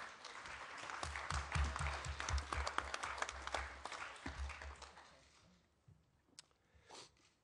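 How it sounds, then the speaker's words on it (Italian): Audience at a Shoah remembrance event bursts into applause, a thick wash of clapping that swells for several seconds, then thins out into a few scattered claps and quiet room noise. "Un applauso, scusate, ve lo chiedo io."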